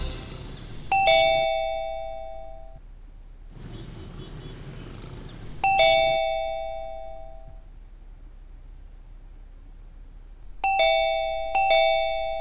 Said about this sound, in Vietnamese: chú bấm muốn hư cái chuông của con luôn á